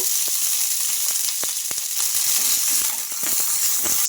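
Green chillies fry in hot oil in a pan for chutney, giving a steady, loud, close sizzle with scattered small crackles and pops throughout.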